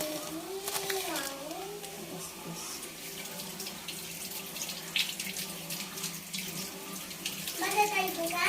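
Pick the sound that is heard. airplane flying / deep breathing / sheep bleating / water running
water running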